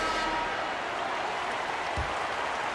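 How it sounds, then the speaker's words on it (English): Steady crowd applause in an NBA 2K24 basketball game fills the whole stretch at an even level, a broad wash of clapping with a short low thump near the end. "let's have a round of applause for the Cavalier girls"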